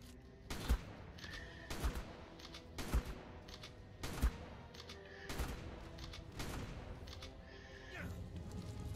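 Gunfire in the Ark survival game during a Crystal Isles Gamma boss fight: sharp shots fired at a steady pace, roughly one every second, over a continuous bed of background game sound.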